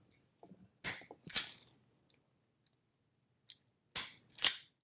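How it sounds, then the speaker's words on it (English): Sharp snipping of cutters through old headlight wire connectors during a headlight wiring replacement, about four distinct crisp cuts in two close pairs, near and clear against a quiet background. "Go ahead and cut the old connectors off"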